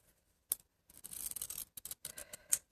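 Scissors snipping through paper card for a handmade wedding bouquet, a few close, quiet rustling cuts and rubs in short bursts with sharp clicks at the start and end.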